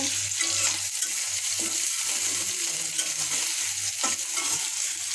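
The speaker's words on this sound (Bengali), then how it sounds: "এখানে শাকটা সিদ্ধ করে রেখেছি, তেলের ভিতর দিয়ে দেব।" Boiled greens fried in oil with garlic, dried chili and chopped onion give a steady, close sizzle with occasional stirring scrapes and bubbling throughout.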